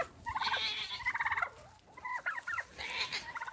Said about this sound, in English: That is Blue Diamond over there hollering